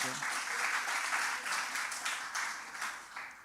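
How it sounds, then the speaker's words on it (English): Audience applause at a law faculty book launch, a steady round of clapping from a crowd that fills the whole moment at an even, moderately loud level. "A round of applause for Professor Ntlama-Makhanya"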